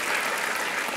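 Dense applause from a crowd at a drama award event, a steady, even wash of many hands clapping together with no voices, fairly faint and distant.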